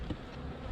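Honeybees buzzing inside a hive, a steady close low hum with no voices, briefly heard during an early spring inspection.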